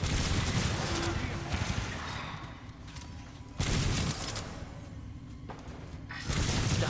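Bursts of Titanfall 2 gunfire in heavy, dense volleys that stop and start, separated by quieter stretches, with a brief spoken word in the middle.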